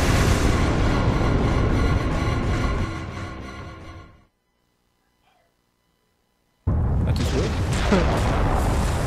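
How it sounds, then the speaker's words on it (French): Nuclear explosion in the video game Devil May Cry, a loud sustained booming roar that fades into near silence for about two seconds before another heavy blast surges back abruptly. "Cette explosion nucléaire."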